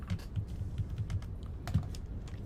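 Someone types on a clicky computer keyboard, close, quick irregular key clicks in short bursts with brief pauses and a louder clack near the end, with no talk.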